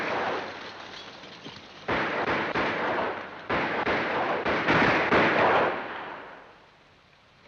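Sustained gunfire roars in dense, broadband bursts, loud and continuous with brief gaps, then dies away near the end.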